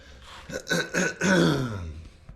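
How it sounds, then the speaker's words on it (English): A throat being cleared in a few rough, raspy bursts, close and fairly loud, then a longer strained rasp trailing off. "Let me clear my throat real quick."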